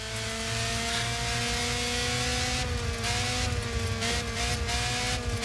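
A race car engine in Grid Autosport drones with a steady high pitch that rises and falls slightly as it revs, loud and continuous, with a few short bursts of extra noise.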